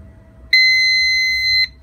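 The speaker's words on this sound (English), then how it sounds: "Beeps." A small UPS battery backup unit gives a single steady electronic beep about a second long as it switches on, loud and close, with faint background hum before it.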